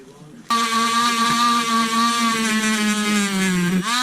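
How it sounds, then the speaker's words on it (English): A wire wheel spins against the inside of RX7 brake calipers, a loud steady high-pitched whir that holds for several seconds and then tapers as it slows. "we are going to take a wire wheel to the inside of these and just clean them up a little bit"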